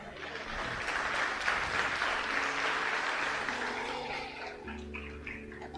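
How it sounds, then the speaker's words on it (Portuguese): A church congregation applauding the Lord during a service, a broad, steady wash of many hands clapping that swells and then eases off, with no voices over it. "Dá um aplauso ao Senhor."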